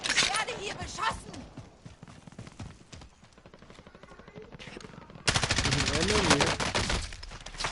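Gunfire in a PS4 video game, rapid bursts of shots that grow louder and denser toward the end, heard under an excited voice talking close by.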